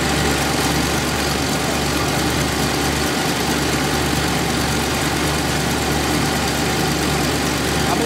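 A small block engine idles to warm up after an oil pump replacement, a steady, even mid-loud rumble with a faint knocking vibration running through it, no one speaking.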